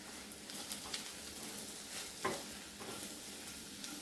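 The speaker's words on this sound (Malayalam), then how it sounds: "ഒന്ന് ഇളക്കി കൊടുക്കണം." Spices being stirred into onions frying in a pan, a quiet, even sizzle with an occasional soft scrape of stirring, faint and without speech.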